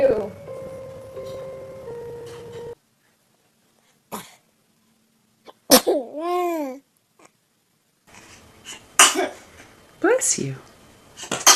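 A baby lets out a few abrupt sneezes mixed with babbling and small coughs, close and loud against quiet gaps, while people talk nearby.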